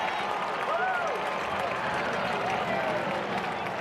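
Outdoor crowd noise at a college lacrosse game between Duke and Notre Dame at Arlada on a mild spring day, a steady broad murmur with scattered distant whistles and shouts running throughout.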